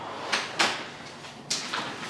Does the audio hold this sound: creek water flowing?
no